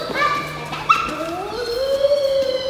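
A child imitates a puppy's barking and whimpering with rising and falling yelping cries, close and fairly loud, with an adult voice nearby.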